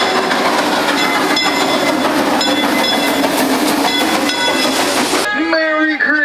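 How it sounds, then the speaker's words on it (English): A Christmas steam train at Silver Dollar City rumbles along with a steady, loud clatter of wheels and hiss under festive music. Near the end the sound drops away, leaving a brief tonal squeal or call. "I'm on the back of your steam train"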